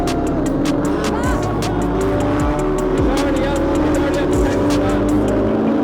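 GT4 race cars in an SRO series race roar past on the circuit, with loud, continuous engine noise and several passes in quick succession, while a voice talks over the track sound.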